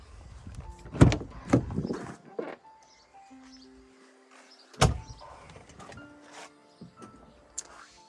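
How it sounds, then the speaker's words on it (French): Rear storage hatch of a 2022 Elios 63 LB Skyline motorhome is opened, with sharp latch clunks and thuds, a loud bang midway, then softer rattles and faint mechanical whirring nearby. "Allez, on va ouvrir la soute arrière."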